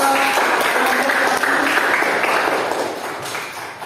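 A classroom group applauds, many hands clapping together in a steady dense patter that fades gradually toward the end.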